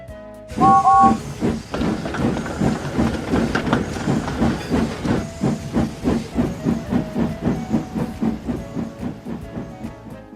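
A toy steam engine puffs steadily along the railway, with loud rhythmic chuffs that slow gradually after an opening whistle-like tone, close and clear with no voices.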